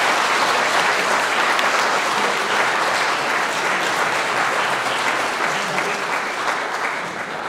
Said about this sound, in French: On peut du coup les applaudir.